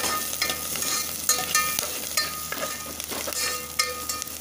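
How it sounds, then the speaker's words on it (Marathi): Curry leaves roasting with onion masala in a pan for a Kolhapuri-style stuffed eggplant rice, giving a continuous close sizzle broken by repeated spoon-stirring scrapes and taps; no one speaks. "कढीपत्ता भाजून घेऊया।"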